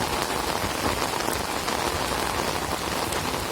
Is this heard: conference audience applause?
no